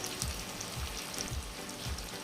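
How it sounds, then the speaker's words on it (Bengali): Onions frying in oil, a soft steady sizzle with a few faint low knocks at a regular pace. "পেঁয়াজটা ভালো করে ভেজে নিব"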